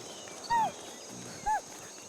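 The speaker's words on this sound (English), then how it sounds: "More horses." Horses in the prehistoric game Ancestors: The Humankind Odyssey give two short, separate snorting whinnies about a second apart, moderately close over a quiet ambient bed.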